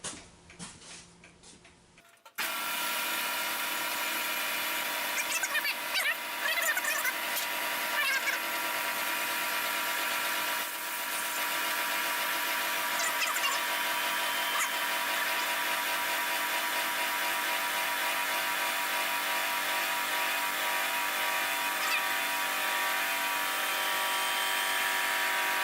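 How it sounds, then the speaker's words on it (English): An air compressor runs in a workshop beside a shaper, kicking in abruptly after a brief quiet start and then droning steadily with a mechanical ticking texture, loud and close, with no talking. "Turn the compressor on"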